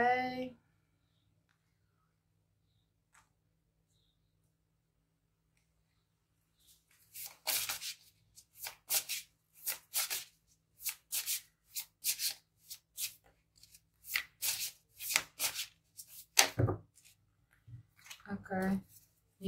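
Tarot cards being shuffled close up, a run of quick papery riffles and slaps in irregular bursts after several seconds of near silence, soft and intimate.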